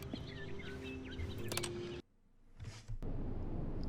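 Birdsong chirps over a dense outdoor ambience in The Stanley Parable: Ultra Deluxe, then the sound abruptly drops out to near silence for about a second before the ambient wash returns.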